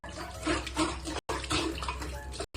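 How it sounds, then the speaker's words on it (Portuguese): Hands vigorously agitate water in a bowl, producing loud sloshing and splashing in uneven surges with two abrupt brief gaps, no voices heard. "Porque eu estou agitando a água com as mãos."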